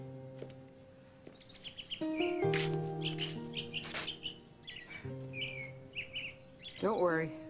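Birds chirp and sing close by in a quiet morning, quick bright tweets and trills scattered over a soft background of low sustained tones, ending with a burst of rapid chirping.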